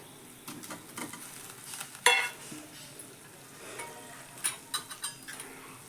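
Tomatoes go into mixed vegetables frying in a pan for a Mahalaxmi offering dish made without onion or garlic. A soft sizzle runs under stirring, with one sharp clatter midway and a few light utensil taps near the end.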